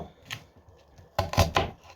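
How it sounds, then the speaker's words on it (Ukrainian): An onion is diced with a knife on a board in a home kitchen: a few soft taps, then a quick cluster of four or five sharp, close chops. "поріжу цибульку кубиками"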